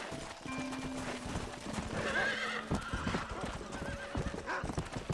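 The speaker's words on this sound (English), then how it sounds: "Cuesta un montón controlar este caballo." A horse in the video game Red Dead Redemption clip-clops along with rhythmic hoofbeats and gives a clear neigh, up close, while someone talks over the gameplay.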